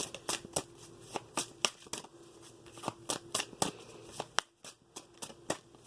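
Tarot and oracle cards are shuffled and drawn close up in a quiet room, giving a rapid run of crisp papery snaps and riffles with brief pauses between bursts; no one speaks.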